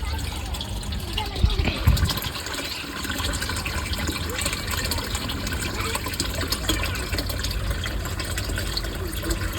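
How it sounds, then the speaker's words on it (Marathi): Water runs through pipes into household storage tanks, a continuous rushing flow with a brief clunk early on, while someone talks over it. "आता आहे ना वरची टाकी भरली, आता खालच्या टाक्या दोन्ही पाईप चालले बघता."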